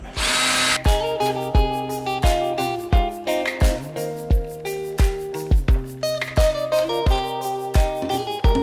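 An electric hand drill whirs in short repeated bursts, its motor pitch rising and dropping with each press as it bites into a wood panel.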